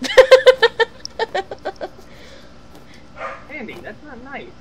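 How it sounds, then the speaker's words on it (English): A pet dog barks in a quick, loud burst of about a dozen sharp barks close by, then quiets as a person speaks over the remaining moments. "I'm sorry if y'all can hear my dog barking."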